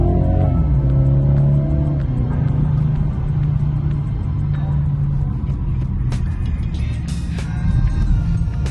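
A car drives along a good road in Irpin, its engine rumbling low and steady and swelling as it accelerates, heard close from inside the cabin with no talk.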